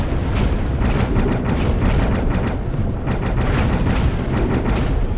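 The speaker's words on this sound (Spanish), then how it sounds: "Es hora de usar la ametralladora." Heavy machine gun fire in the Dave the Diver video game during a Godzilla DLC fight, a dense continuous barrage of rapid booming shots at steady loudness throughout, with no talk over it.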